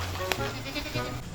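A goat bleats amid dense outdoor background noise, a short wavering call rising briefly above the steady ambient din, with no voices clearly heard.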